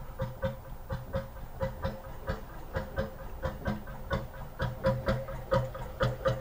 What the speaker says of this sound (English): there's loads of boats going by all of a sudden